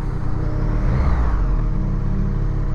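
Skoda Kodiak SUV accelerating nearby, a steady low engine rumble and whir holding strong and loud throughout the short stretch.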